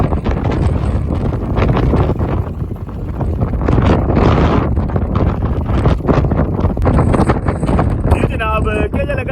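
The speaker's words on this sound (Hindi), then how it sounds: "बहुत ज़्यादा तेज़ हवा और किसमें आंधी और डस्ट।" A strong windstorm carrying dust buffets the microphone near a bridge in Mirpur, Kashmir, as rain begins, giving a loud, steady roar with gusts throughout.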